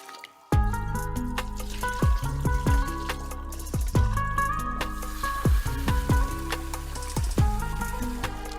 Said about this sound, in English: Start by washing the rice until the water runs clear.